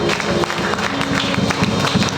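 A church congregation at a Sunday worship service claps together, a dense, steady patter of many hands filling the room at close range, with a faint voice now and then.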